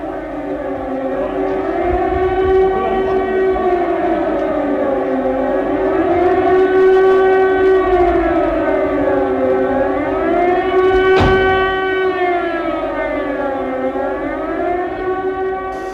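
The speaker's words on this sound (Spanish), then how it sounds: "en general tenían unas sirenas, ¿no?, de las alarmas, que son las mismas sirenas de los bomberos" Air raid alarm siren of the kind used in Second World War bombing warnings, a loud sustained wail that rises and falls slowly in long sweeping cycles, steady and uninterrupted throughout.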